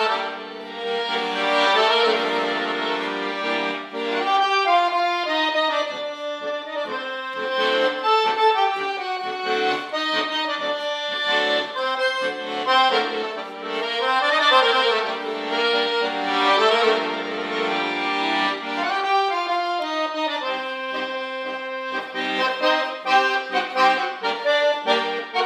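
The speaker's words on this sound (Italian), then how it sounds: "Quando senti la fisarmonica che suona" Accordion music of the kind heard in a ballroom, played continuously with sustained reedy chords and a moving melody, loud and steady throughout with no talking.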